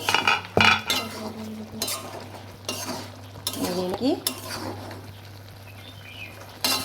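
Beef heart and liver curry stirred in a pan after the lid comes off, with metal utensil scrapes and clinks over a faint simmer, close and uneven, no talking.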